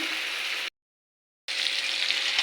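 Onion with salt sizzles steadily in a hot pan as it is stirred, a bright, even hiss that cuts out for a moment and then resumes, with no talking.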